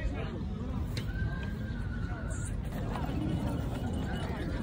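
Horses neigh amid hoof clatter at an outdoor horse market in Peshawar, Pakistan, with a steady crowd hubbub and voices throughout; a faint whinny rises over the noisy background.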